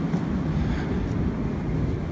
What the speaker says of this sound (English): It is kind of windy too.